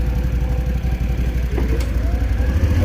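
A 2025 Can-Am Outlander XT 850 ATV idling and running at a steady, fairly loud mid-pitched drone, with a slight rev near the middle and no one speaking.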